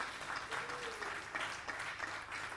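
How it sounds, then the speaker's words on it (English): An audience applauds steadily for a few seconds, a dense patter of many hands clapping at moderate volume in a room. "give him another round of applause"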